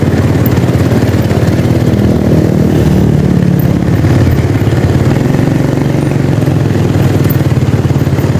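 Motorcycle engines drone loudly and steadily along a Manila road near a skyway construction site, a dense continuous rumble with no clear gaps.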